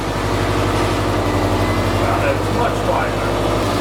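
A Subaru engine with a freshly repaired exhaust idles steadily with a low, even rumble, running smoothly and fairly loud, with a brief rise in tone toward the end.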